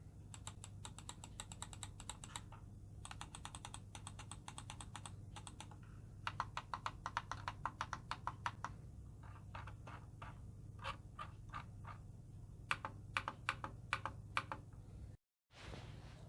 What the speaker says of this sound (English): And this is how the mouse sounds.